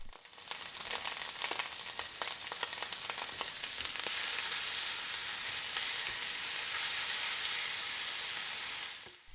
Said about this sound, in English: Add the garlic and cook those for a couple of minutes.